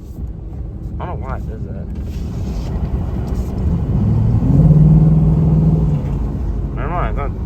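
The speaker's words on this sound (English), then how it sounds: "my stupid exhaust is doing that stupid noise again" A car's exhaust makes an odd droning hum with a steady tonal buzz over engine rumble, heard close from inside the vehicle while a person talks over it.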